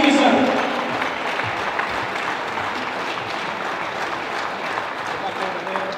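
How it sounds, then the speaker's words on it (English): An audience at a badminton mixed doubles final applauds its champions, a burst of clapping that starts loud and settles into steady, slightly softer applause, while a voice talks over it. "Please, a warm round of applause for your champions."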